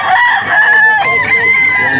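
A young rooster, a stag, crows in a long, loud call at a Philippine cockfighting-bird sale, with voices and other birds faintly behind it.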